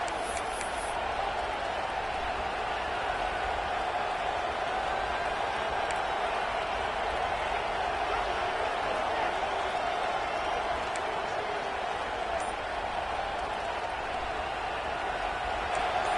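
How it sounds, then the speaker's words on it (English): A loud stadium crowd at a college football game, a steady, unbroken roar sustained at even volume throughout, with a broadcaster's voice faintly underneath. "This crowd, full throat, splitting the eardrums and letting them know it's going to be a long day"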